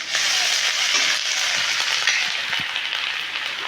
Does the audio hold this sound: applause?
no